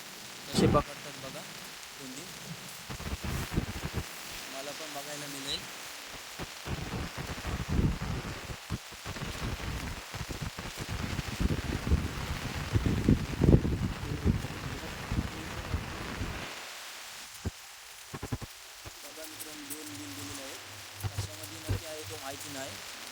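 Steady rain pours down and patters on a surface, a dense, continuous hiss that swells in the middle and eases slightly toward the end.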